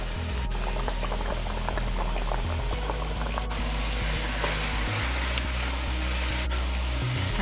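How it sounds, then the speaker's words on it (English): Liquid from cooked fish simmers in a pot, bubbling steadily at close range in a continuous soft, even boil with faint popping and no voices. "I'm just gonna let the liquid evaporate a little bit more"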